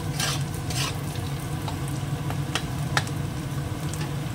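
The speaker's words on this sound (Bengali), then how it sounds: "এবার পেঁয়াজটাও দিয়েছি, এটাও একটু হালকা ভাজা হোক।" Onion frying lightly in a pan after potatoes, with a soft steady sizzle and intermittent stirring scrapes close by, no talk.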